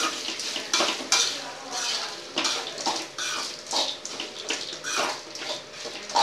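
A spoon stirring Pathare mutton curry masala in a pan, repeated scraping sweeps with a soft sizzle underneath, close and fairly loud in an uneven rhythm.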